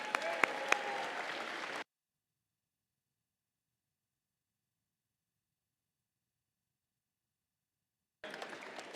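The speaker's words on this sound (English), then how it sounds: "One more round of applause for Team 4628." Audience applause at a district robotics competition event honouring a team, a short burst of steady clapping that cuts off into silence, then resumes briefly at the end.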